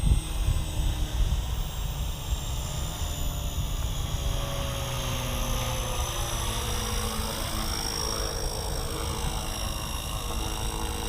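A small Blade Fusion 180 RC helicopter hums and whines steadily as its rotors spool down, loud at the start and easing slightly while the tone falls and sweeps.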